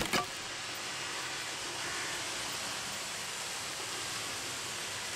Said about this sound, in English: Oh, it's the waterfall.